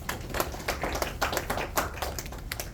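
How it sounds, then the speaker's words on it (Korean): An audience at a small-business startup training lecture claps, a moderate crowd applause with uneven overlapping hand claps, steady and fairly close, with no talking. "우리 소상공인 활성화 재단에 대해서 박수 한번 쳐주시죠"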